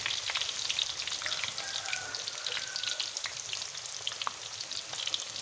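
Banana slices for banana chips fry in hot oil, giving a steady, dense sizzle with crackling pops throughout, fairly close and with no voices.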